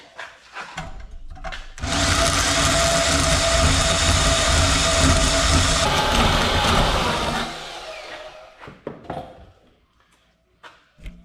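A loud, steady portable band saw drones for about six seconds while cutting, then winds down and stops, followed by scattered knocks and handling noises.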